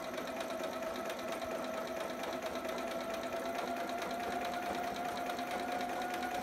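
Sewing machine stitching fabric for a romper, going forward, back stitching, then forward again: a steady, fast mechanical whirring hum with a constant pitched drone, close and continuous, with no talk.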